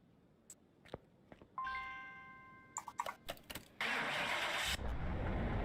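A car engine cranks and fires up in Car Mechanic Simulator 2021, the modded Holden EFIJY getting ready for a dyno run. Game interface chimes come first, then the engine catches and settles into a loud, steady roar.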